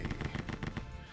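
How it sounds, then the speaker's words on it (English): Rapid gunfire crackles in a Doom mod video game, a fast burst of roughly a dozen evenly spaced shots heard up close, with no talking. "I was wondering where the gunshots were coming from"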